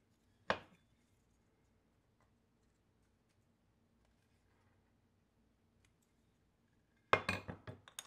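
Setting a wooden wedge into a broad axe handle: one sharp knock early on, a long quiet stretch, then a quick flurry of hard strikes near the end.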